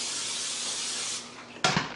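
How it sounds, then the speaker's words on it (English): Nonstick cooking spray hissing from an aerosol can into a pan for a veggie omelet, a close, steady spray lasting about a second, followed by a short clatter. "nonstick cooking spray"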